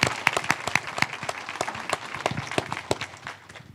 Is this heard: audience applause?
yes